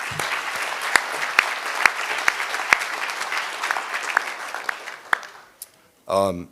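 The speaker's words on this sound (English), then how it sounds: "So I just want to give them a round of applause real quick, if we could, please." Applause rises from the audience at a college prep graduation ceremony, scattered and fairly light clapping with distinct sharp claps standing out, fading near the end before a short burst of a voice.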